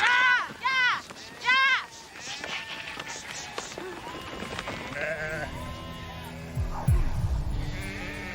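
Several loud sheep bleats in quick succession close by, followed by quieter farm background noise with some talking.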